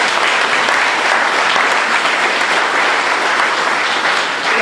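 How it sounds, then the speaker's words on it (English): Strong, continuous applause from a debate audience for seven mayoral candidates, a dense and loud wash of clapping that holds steady for the whole stretch. "Let's give them one big round of applause."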